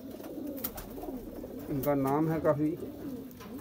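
Pet pigeons, including dub-type birds kept by an old pigeon fancier, give soft throaty coos near the microphone while someone talks over and around them.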